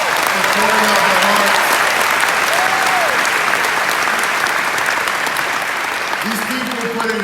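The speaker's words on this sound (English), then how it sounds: "give them a huge round of applause for pouring out their" Loud, sustained applause fills a hall for the team who ran a stage event, a dense roar of clapping with scattered voices and whoops rising over it, easing slightly near the end.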